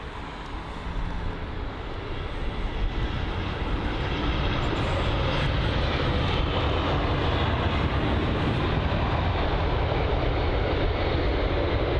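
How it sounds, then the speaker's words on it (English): An American Airlines Boeing 787-9 Dreamliner jet at London Heathrow gives a loud, steady broadband roar that swells in the first seconds and then holds strong throughout. "American Airlines 787 Dreamliner up next."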